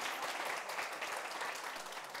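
Steady applause from a studio audience at a televised lecture, a continuous, even wash of clapping, fairly faint and heard from a distance, with no talking over it.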